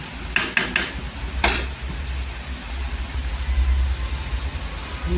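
Egg curry served from a pan onto a plate: a few sharp metallic clinks of a utensil scraping the pan early on, then a louder clatter, over a steady low kitchen hum with no talking.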